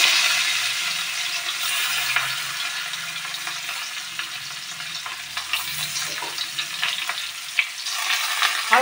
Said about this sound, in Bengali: কড়াইতে তেল গরম হয়ে গেছে, আমি এইগুলো সব কড়াইয়ের ভিতরে দিয়ে দেবো।